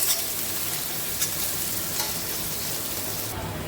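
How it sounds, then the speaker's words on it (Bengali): Onions frying in a pan with a close, continuous sizzle and crackle, a spoon stirring now and then, no talking. "পেঁয়াজটাকে আমি ভেজে নেব"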